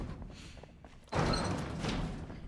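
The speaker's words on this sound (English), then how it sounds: "Those garage doors are loud." A garage door opens in the video game Project Zomboid: a loud, sustained mechanical rumble starts abruptly about a second in and carries on steadily to the end.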